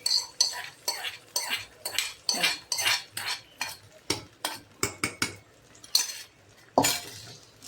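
Raisins frying in ghee in a pan, stirred with a metal spoon: a steady run of close scraping and clinking strokes, faint sizzle beneath, no talk.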